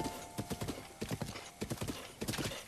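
A horse's hooves clip-clop in quick, uneven bursts as it trots across ground in the Breath of the Wild game, close and clear but quiet overall, with a faint steady tone underneath.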